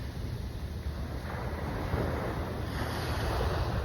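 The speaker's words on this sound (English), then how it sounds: "Don't want any rogue waves taking me out into the sea." Ocean waves breaking on a shore, a steady loud rushing wash of surf mixed with gusty wind buffeting the microphone, continuous and close with no speech.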